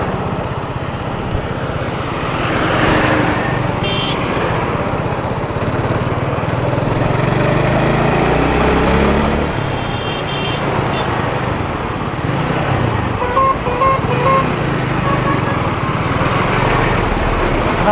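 A Kawasaki Z900 motorcycle on a road, its engine droning continuously with rises and falls in revs amid road and wind rumble, no speech.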